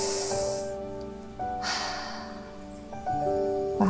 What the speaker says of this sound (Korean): 호흡 세 번 갈게요